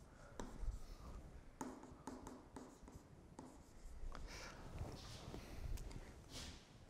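Chalk or pen scratching out a math formula by hand during a lecture on the degree of self-maps of the circle, steady tapping strokes and scrapes with pauses, no talking.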